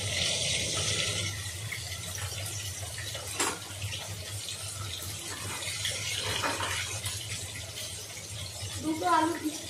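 Running tap water streams steadily over halved, peeled pointed gourd pieces in a sink, a constant splashing hiss with occasional clatter, and someone speaks briefly near the end.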